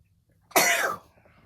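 One sudden, sharp sneeze bursts out close up after a quiet moment, then trails off within about half a second.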